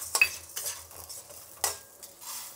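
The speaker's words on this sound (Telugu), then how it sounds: "ఉద్దిపప్పు, శనగపప్పు 2 వేయించుకుందాము" Urad dal and chana dal tossed into hot oil in a pan, with sharp scattered clinks and scrapes of a spoon stirring over a faint sizzle, the bursts short and irregular.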